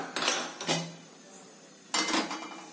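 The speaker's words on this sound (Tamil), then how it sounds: "ஸ்டவ் ஆன் பண்ணி கடாய் வச்சுக்கலாம்" A metal kadai set down on a gas stove makes a few short clanks and scrapes, two close together and one a moment later, with no talking.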